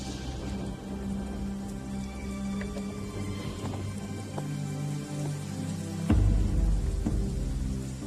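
Rain pours steadily in a Telugu film scene, a loud constant hiss and patter that swells sharply near the end, with no talk over it.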